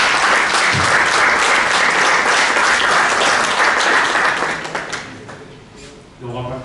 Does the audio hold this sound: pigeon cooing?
no